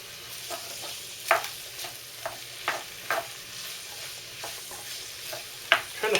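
A pot of low-carb seafood soup sizzling on the stove with a faint, steady sizzle and several brief scraping and stirring knocks at irregular intervals, with no speech.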